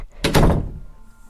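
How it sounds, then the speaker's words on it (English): A door shut forcefully, landing as one heavy, close thunk with a short boomy tail and no other sounds around it. "he closed the door rather forcefully"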